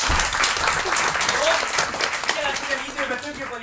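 Applause from an improv theatre audience in Pécs fills the room, steady and dense throughout, while a presenter speaks over it.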